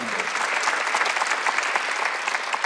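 Church congregation clapping during an Easter Sunday worship service, steady and fairly loud for a couple of seconds.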